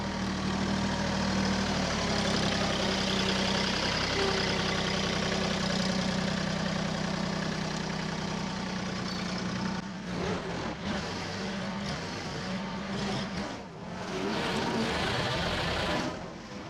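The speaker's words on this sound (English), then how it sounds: "I'm gonna grab the small tractor, put the tractor bucket on it" A small tractor fitted with a bucket runs at a steady idle for about ten seconds, then its engine note roughens and fluctuates as it works, with intermittent clunks and scraping.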